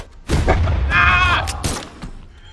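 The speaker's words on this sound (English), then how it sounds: "Stupid bomb!" A bomb blast in the video game Brawlhalla, a loud booming burst with a rumbling low tail, followed by a second thump, with brief voices around it.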